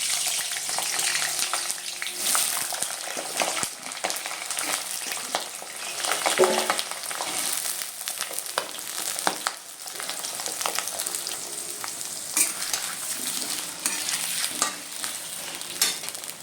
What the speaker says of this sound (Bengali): এবারে আলুটা অল্প হালকা করে ভেজে নেবো।